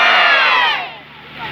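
At an award ceremony and festival stage event, a large crowd roars back a patriotic chant in one loud, sustained collective shout that fades away after under a second.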